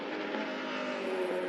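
A race car in Assetto Corsa holds a steady, buzzing high-revving engine note as it pulls out of the pits on medium tyres. The tone is continuous and fairly loud, with no talk.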